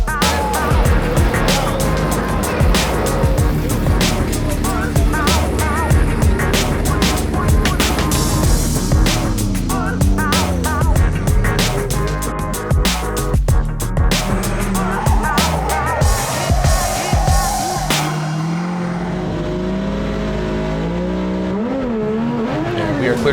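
At a Formula Drift round at Irwindale, a 2J-powered purple BMW drift car roars loudly, its engine revving and rising in pitch with tire noise and crowd, while a commentator talks over the din.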